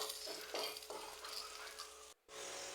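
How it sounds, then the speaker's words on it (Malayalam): Dried red chillies fry and get stirred in a pan for chicken curry, a steady close sizzle with scraping spoon strokes, cut by a brief silent gap near the end. "മുളക് നല്ലപോലെ വറുക്കണം"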